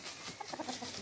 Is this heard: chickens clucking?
yes